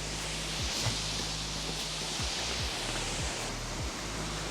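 A waterfall rushes steadily in the background, a constant broadband hiss with a few faint low thumps underneath and no voices.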